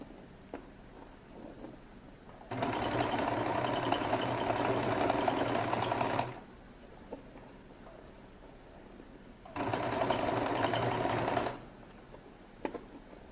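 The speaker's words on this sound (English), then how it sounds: "And now begin to stitch till I get to the end, or at least as close as possible to the end." A sewing machine stitches a lady's jacket lining in two bursts, the first about four seconds and the second about two, each a loud, even whir separated by quiet pauses with small handling clicks.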